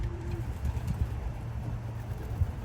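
Racing pigeons coo softly in a loft, low repeated throaty calls under a faint steady background hum.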